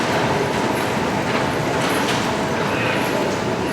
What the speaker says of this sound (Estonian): Me jõudsime jälle metroosse, see on väga südav, see on Peterburi metroo.